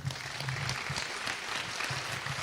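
An audience claps in a steady, moderately faint patter of applause at a wrestling-related show, with some low murmur beneath.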